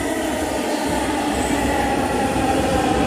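A metro train bound for Motijheel rumbling past nearby, a loud steady roar of wheels on rails with a faint high squeal, no voices.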